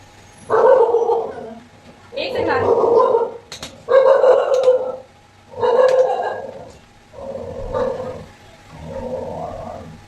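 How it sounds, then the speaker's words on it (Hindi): A dog barks close by in six drawn-out, howling barks with short pauses between them. "तो आपने चम्मू की आवाज़ सुनी होगी, वो भी भौंकने लग गई थी कि अंदर कैसे आ रहे हो।"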